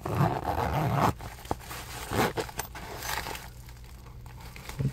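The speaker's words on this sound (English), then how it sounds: "Zipper." Zipper being handled up close in a quiet room, a few short rasping pulls and rustles, some louder bursts near the start and middle, with no talking.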